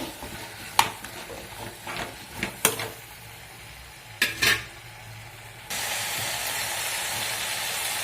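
Mixed vegetables in a pan are stirred with a few sharp scraping clacks over a quiet sizzle, then a louder, steady frying hiss takes over for the last few seconds.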